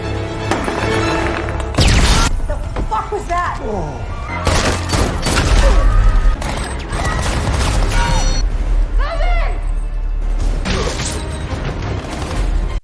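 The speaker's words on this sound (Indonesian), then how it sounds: "Ketika si pembeli hendak menyakiti Jenny, mereka terkejut mendengar ledakan." Explosions and bursts of gunfire from the action film The Working Man, loud and dense. They come in repeated crashing impacts with chaotic noise and shouting voices mixed throughout.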